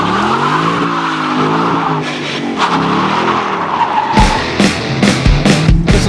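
A Ford Mustang muscle car roars with a loud, rising and falling engine note, then its tires squeal in several sharp bursts near the end, close and alone without talk.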